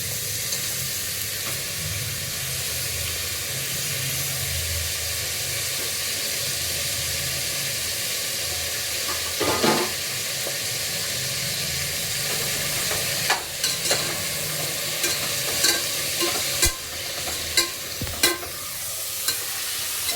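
Tomatoes sizzle steadily in a hot pan for fenugreek-leaf pulao, a continuous frying hiss with intermittent stirring scrapes and clinks growing more frequent toward the end, with no voices.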